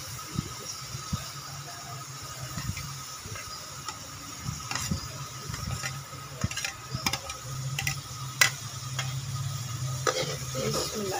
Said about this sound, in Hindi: ये अदरक लहसुन की खुशबू आने तक हम इसको प्याज के साथ भूनेंगे